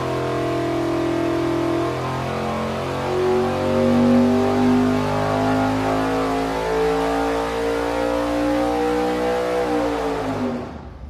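A 582 cubic inch big block Chevy V8 fitted with a 1250 CFM carburetor runs a dyno pull, a loud, close, sustained roar that climbs steadily in pitch for about ten seconds before cutting off abruptly.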